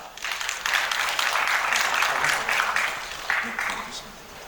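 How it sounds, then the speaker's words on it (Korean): Audience applause at an Incheon education forum, a brief burst of clapping from a seated crowd that rises quickly, holds for a few seconds and then tapers off. "박수 한번 부탁드립니다."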